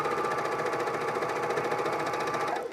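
A sewing machine stitches underwear in an unbroken run, a close, loud, even mechanical buzz with rapid needle rattle that stops abruptly at the end.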